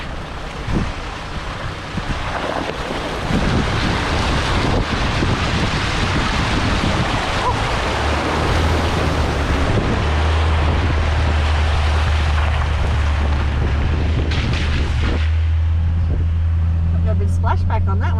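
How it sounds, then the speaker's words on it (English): A car fording a water crossing in outback Australia, a broad rushing splash and surge of water building over the engine's low drone, wind noise on the microphone throughout. "Guess what? Another water crossing."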